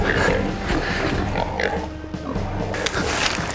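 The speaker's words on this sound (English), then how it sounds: "There's a pig in there." A wild pig grunts and oinks in hillside bush during a hunt, several rough grunts close by amid rustling and outdoor noise.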